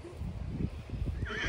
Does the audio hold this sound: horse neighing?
yes